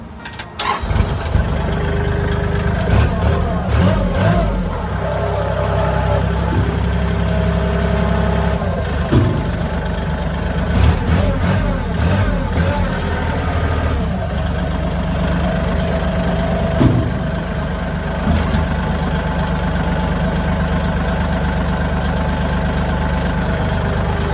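A Kubota tractor diesel engine starts up and runs with a heavy, uneven chugging rumble, revving and settling repeatedly for a long stretch without talk.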